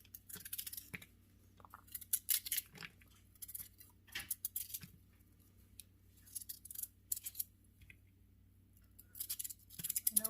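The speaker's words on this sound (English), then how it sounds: "I cut all this stuff from around the core." A knife trims leaves away from around a cabbage core for slaw: a quiet series of crisp, irregular crunching cuts close by, with no talking.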